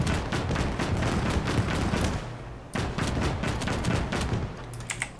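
Rapid bursts of German flak gun fire in the Gates of Hell: Ostfront game, a dense, loud run of sharp repeated shots with a brief pause midway before the firing resumes.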